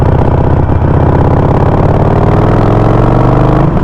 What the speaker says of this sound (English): See, you hear that engine? It's like, it's engine braking for me.